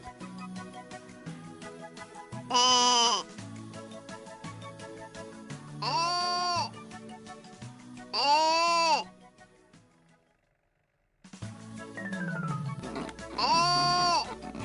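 Four loud sheep bleats come at irregular intervals over a low rustling background, with a short silent gap before the last one.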